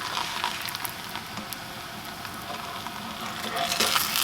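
A quesadilla cooks in a pan with a steady, close sizzle and crackle throughout, with small stirring scrapes and a slight swell near the end.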